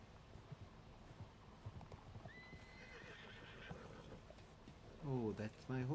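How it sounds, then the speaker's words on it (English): A horse whinnies in a rising, wavering neigh near the end, with hoof clip-clops and a faint high whistle earlier over a low, busy background; a person talks nearby. "Oh, that's my horsey."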